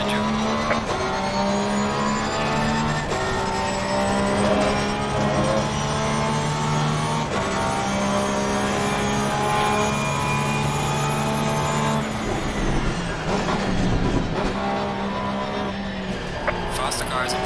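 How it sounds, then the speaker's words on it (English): Several GT race cars in Assetto Corsa Competizione close in from behind, engine drones rising and shifting in pitch as they draw near, loud and continuous, with talk over the top. "Faster car coming up behind you."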